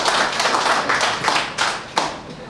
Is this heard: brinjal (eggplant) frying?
no